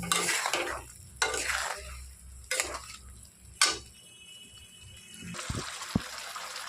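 Quiet stirring of spice paste frying in oil in a pan for ilish curry, with soft sizzling and a few scraping strokes of a spoon against the pan, no talking.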